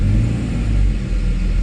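A Mercedes SL R129 engine, just after a throttle body repair, revs and accelerates with a close, loud, low rumble that swells briefly without any talking.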